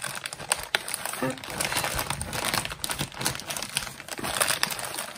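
Crinkly plastic of a zippered pouch rustles and crackles as it is handled up close, a continuous irregular crumpling with small sharp bursts.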